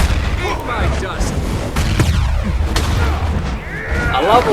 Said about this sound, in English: I love all the explosions.